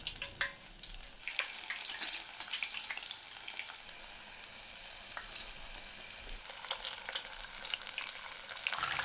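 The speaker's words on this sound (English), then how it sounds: "The taranome shoots are then lightly dipped in the batter and put into the pot." Steady crackling sizzle of batter-dipped Aralia shoots frying in hot oil for tempura, bubbling continuously up close with occasional louder spits and no voices.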